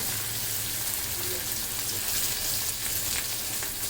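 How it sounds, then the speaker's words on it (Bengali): Shrimp fry in a pan with a dense, constant sizzle and fine crackling, close and steady throughout. "আমি ভাজা চিংড়িটা একটু আমার বাসায় বেশি পছন্দ করি সেই জন্য আমি ভেজে নিচ্ছি"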